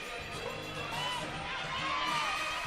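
A crowd cheering at a college gymnastics meet between Utah State and BYU: a distant wash of arena voices and whoops that swells gradually, fairly faint throughout.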